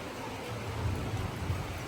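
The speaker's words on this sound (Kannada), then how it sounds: "ಮಳೆ ಬರ್ತಾ ಇದೆ" Steady rain falls outdoors, a dense continuous hiss of drops with a soft low rumble underneath, even and unbroken throughout.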